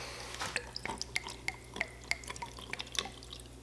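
Water drips and spatters in a quick, irregular run of small bright splashes as an ice maker is filled with Florida spring water and tap water, close and fairly quiet, with no talk.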